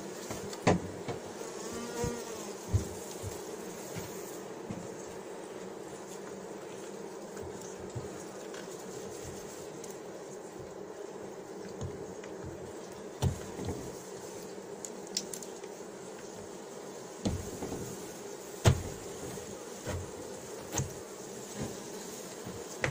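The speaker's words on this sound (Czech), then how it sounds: "Takhle agresivní včely, to jsem snad ještě neměl." Honeybees around an opened hive during an early spring inspection in February, a steady close buzzing drone with a few sharp knocks and clicks from handling, no talk.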